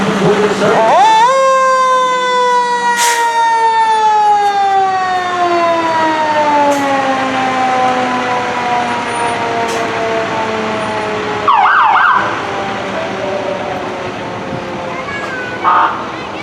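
A Lincoln County Fire Department fire engine, Engine 34, sounds its wailing siren during a Veterans Day parade in Delano, the tone rising then slowly falling over many seconds, loud and close, with brief horn-like blasts near the end.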